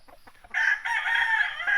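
A yellow-legged broodcock rooster crows once, loud and close, after a few soft clucks.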